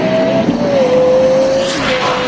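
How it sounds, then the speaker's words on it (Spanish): A 4.8-litre ten-cylinder car engine roars steadily at high revs, a loud sustained tone that shifts pitch slightly as it holds, with no talk. "La mayoría coincide que este es el mejor sonido de un motor de un auto."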